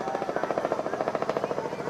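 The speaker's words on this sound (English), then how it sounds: "A little helicopter appearance above us." A small helicopter passes overhead during a football game, its rotor producing a steady, rapid thudding pulse at moderate volume throughout.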